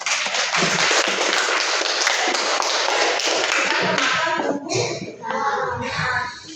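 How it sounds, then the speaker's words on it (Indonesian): Children in a classroom clap their hands together in a dense, steady burst of taps that fills most of the moment, then thins out near the end as a few voices talk. "tepuk tangan dulu untuk ada yang tahu"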